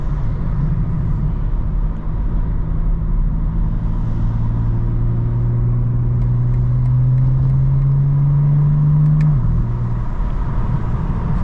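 A 2025 BMW M4 CS with the exhaust mode off drones steadily while driving, and a low, continuous engine tone rises gradually before a shift near the end. It sounds close and constant, with no speech.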